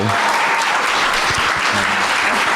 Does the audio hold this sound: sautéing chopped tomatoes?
no